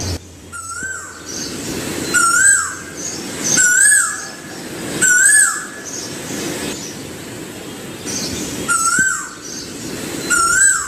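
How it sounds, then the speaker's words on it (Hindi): An Asian koel calls again and again with loud, rising whistled notes at a steady rhythm of about one every one and a half seconds, over a low background hum. "जॾहिं कोयल थी कूकू करे"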